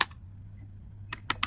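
Keystrokes on a computer keyboard while a networking command is typed: a couple of quick clicks at the start, a pause, then a fast burst of three crisp, close taps.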